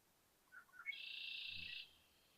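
A single bird call in spring in Winnipeg, Manitoba, a short rising chirp into a sustained whistled note, faint and distant in a quiet outdoor setting.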